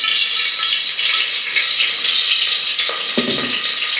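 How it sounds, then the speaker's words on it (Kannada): Tempering spices sizzle in hot oil in a pot, ready for sambar, in a steady, loud, close hiss with a brief clatter near the end; no one speaks. "ಸೊ ಒಗ್ಗರಣೆ ಹಾಕ್ಬಿಟ್ಟು ಡೈರೆಕ್ಟು"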